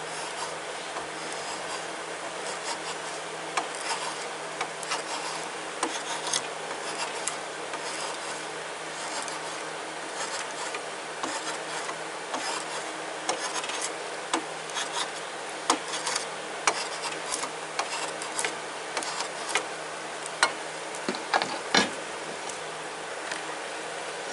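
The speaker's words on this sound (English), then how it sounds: "Curl the draw knife upwards as you pull, and then it doesn't give you that, all those rough looking marks there." Steady scraping and shaving strokes of a draw knife working a wooden hatchet handle held down by clamps, a continuous close rasp with scattered sharper catches, no talk.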